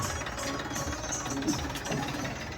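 A tractor engine runs at a steady, chugging idle on a farm after rain, its knocking mid-range beat continuous and fairly near for under three seconds, with faint background sounds but no clear talk.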